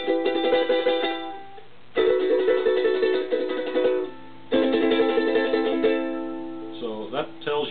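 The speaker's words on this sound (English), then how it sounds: "you're going to hear a minor chord, which would sound like this." A ukulele strums a minor chord up close, ringing out in three separate bursts with short pauses between them, the last one fading into a few softer plucked notes.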